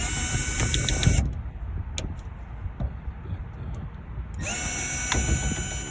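A power tool sands down the bare metal roof of a box Chevy during a panoramic sunroof install, running loud and steady at the start and end with a quieter stretch in between.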